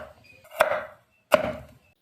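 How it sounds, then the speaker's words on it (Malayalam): A knife chops through KitKat bars on a board for a milkshake, two sharp close cuts about three-quarters of a second apart, in a quiet kitchen with no talking. "അതിനുശേഷം നമ്മുടെ കിറ്റ്കാറ്റിനെ നമ്മളിവിടെ ചെറുതാക്കി അരിഞ്ഞു കൊടുക്കുകയാണ് ചെയ്യുന്നത്."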